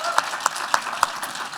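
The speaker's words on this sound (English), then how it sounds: "I'd like to give them a round of applause just real quickly." Audience applause at an architecture panel event on affordable housing and homelessness, a short burst of clapping from the room with a few distinct claps standing out near the microphone.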